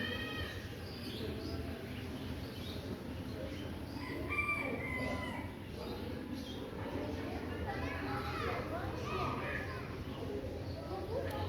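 A rooster crows at a farmyard among goats and other fowl, its call rising over steady outdoor background noise and clucking, with people talking nearby.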